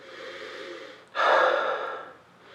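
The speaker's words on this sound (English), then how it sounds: "you'll notice that I'm sniffing pretty deeply" A deep, drawn-out sniff over a glass of Pinot Noir made from a Master Vintner kit: a soft breath first, then a strong, close inhale lasting nearly a second before fading out.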